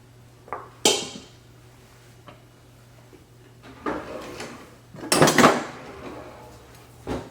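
Kitchen utensils being rummaged through for a spoon: scattered close clinks and rattles of metal cutlery and dishes, with a drawer-like slide and a dense burst of clattering near the end, no talking.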